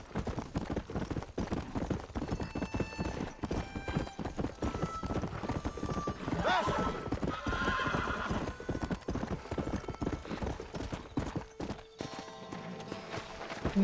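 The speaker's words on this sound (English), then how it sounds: "Ah, o outro cavalo se assustou com o meu?" Horse hooves clip-clop steadily in Red Dead Redemption while a horse whinnies partway through, over a continuous bed of game ambience and music, with faint talk underneath.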